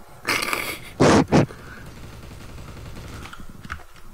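Gunfire in the video game Trouble in Terrorist Town: a burst of loud, close shots followed by two quick heavy blasts, with muffled game noise afterward.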